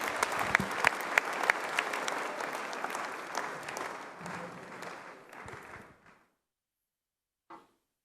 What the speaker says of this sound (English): With a round of applause, let's welcome Dr.